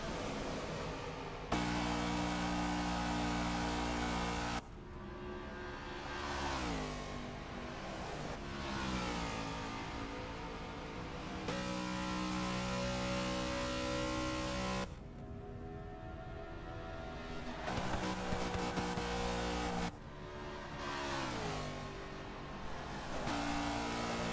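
Race cars roar around Homestead in a sim racing game during qualifying, engines screaming at high revs and dropping with each gear shift and pass, a loud, layered whine of several cars running close together.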